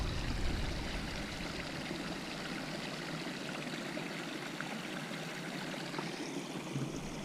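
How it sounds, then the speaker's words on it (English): A stream flows steadily outdoors, a continuous rushing and trickling wash of water that stays even throughout, with no voices. "Maybe I'll shut up this time so you can hear the water."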